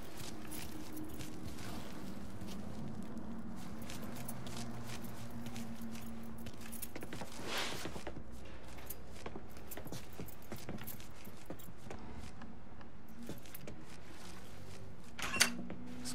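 Keys jangle in the Mafia 3 video game as a character grabs the truck keys, a faint, brief metallic clink set low against a steady ambient game background of hum and soft mechanical noise.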